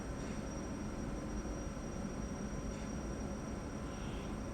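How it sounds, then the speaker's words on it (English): A train pulls into a station in Brixton, London, a steady close rumble of wheels and engine noise with faint rail hiss, continuous and loud for the whole stretch. "Oh, here comes the train."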